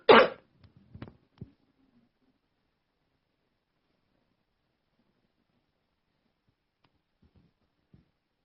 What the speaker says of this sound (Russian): попробуйте покашлять